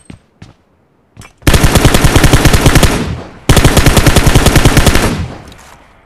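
PUBG Mobile gunfire in a classic solo-versus-squad match: a few single shots, then two long loud bursts of rapid automatic fire close to the listener, the second tailing off, with no talking.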